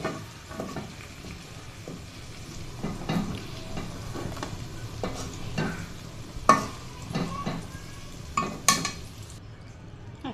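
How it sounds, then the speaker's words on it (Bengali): Chapa shutki (dried fish) fries in a pan with sizzling oil, broken by repeated scraping stirs and sharp clinks of a metal utensil against the pan, close and fairly loud. "এখন এখানে শুটকিগুলোকে ভেজে নিচ্ছি।"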